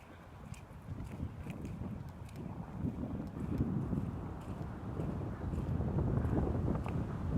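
Wind blowing outdoors on a walk, a steady broadband rush that builds and gusts louder toward the end, close to the microphone with buffeting and no voices.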